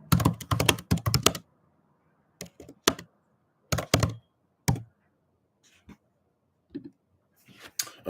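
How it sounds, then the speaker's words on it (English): Keys clatter on a computer keyboard in quick bursts of clicks separated by short pauses, close and crisp, with a few isolated taps near the end. "I will type that down."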